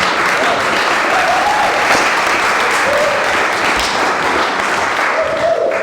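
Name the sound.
audience applause for speakers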